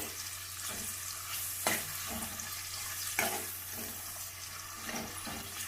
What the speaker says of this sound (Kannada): ಈರುಳ್ಳಿ ಎಲ್ಲ ಸ್ವಲ್ಪ ಬ್ರೌನ್ ಕಲರ್ ಆಗೋವರೆಗೂ ಫ್ರೈ ಮಾಡ್ಕೋಬೇಕು ಎಣ್ಣೆಯಲ್ಲಿ